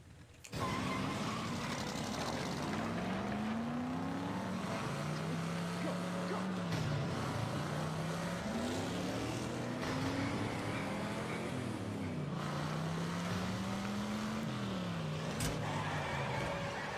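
Car engine revving and pulling away, a continuous mid-pitched drone that rises and falls in repeated surges for most of the stretch, fairly loud and steady.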